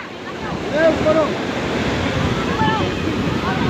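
Ocean surf washes in steadily on Manora Beach with broad rushing noise and wind buffeting the microphone; children's voices call out faintly a few times.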